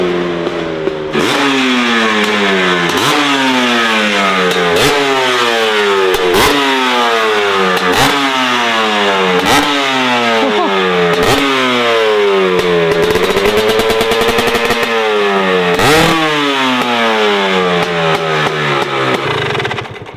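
A modified 50cc motorbike engine revs repeatedly, rising and falling in quick cycles, loud and close with a raspy, crackling buzz and no talking.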